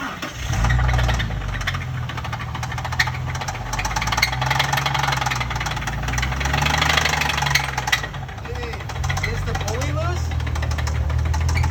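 A JDM car engine runs after a shop engine swap, with a rough steady idle and a loud uneven low rumble throughout, and people talking over it.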